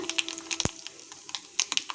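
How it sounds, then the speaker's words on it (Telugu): Mustard seeds pop and crackle in hot tempering oil in a small ladle: a scatter of sharp, quiet snaps at irregular intervals, with one louder crack near the start. "ఇప్పుడు గరిటెలో పోపుకు నూనె ఉంచినాను ఇందులో ఆవాలు వేస్తున్నాను"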